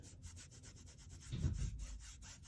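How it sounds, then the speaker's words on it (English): Tailor's chalk being rubbed off fabric, a steady rhythmic back-and-forth scrubbing of close, soft strokes, roughly a dozen passes, with a slightly heavier rub in the middle and no talking. "One of the first things I do to try and remove chalk is I rub it."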